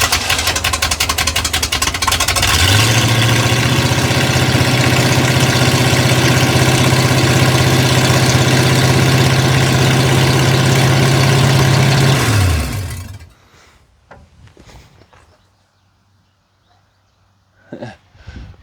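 A 1988 Ford F150 engine runs at a steady, loud high idle for about ten seconds, then shuts off, leaving faint clicks and ticking.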